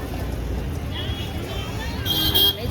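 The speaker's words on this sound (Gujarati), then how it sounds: "બજારમાં તો ટ્રાફિક બહુ હોય" Busy market street traffic with a car horn sounding near the end, under a steady wash of engines and crowd babble, with voices talking close by.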